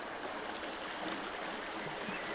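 River water flows steadily in a continuous broadband rush and trickle, close and even, at a quiet riverside fishing spot with no voices.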